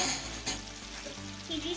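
Chicken curry, cooked through after simmering covered on low flame, fries in a pan with a soft continuous sizzle and light stirring, fairly quiet and brief.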